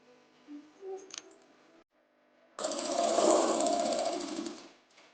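A sewing machine stitches the folded hem of a palazzo, first with a few short starts and clicks and then with a steady, close buzzing run that lasts several seconds before stopping.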